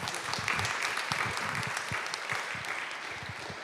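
An audience at a statue presentation gives a steady, dense round of applause, many hands clapping together at an even level throughout without a break.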